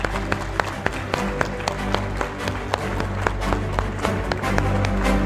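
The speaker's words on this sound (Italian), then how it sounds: "Quindi davvero un grandissimo applauso a questi super atleti." An audience at a Paralympic sports gala in Veneto applauds athletes, a loud, dense, sustained round of clapping with sharp individual claps popping out over the crowd and background music.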